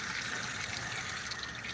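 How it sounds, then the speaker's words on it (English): Tap water runs steadily into a sink during food grinding for biogas, a continuous hissing gush heard close up with no talking. "let's turn on the water"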